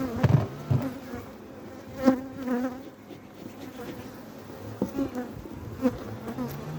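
Honeybees buzzing as a hive is opened at the start of the season, a close, fluctuating drone with individual bees swelling in and out near the listener, heard alone.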